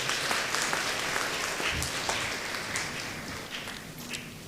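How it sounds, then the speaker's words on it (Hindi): An audience claps together after a speaker asks for thanks at a gathering, steady scattered applause at moderate distance that gradually thins out toward the end. "एक बार ताली बजा दीजिएगा"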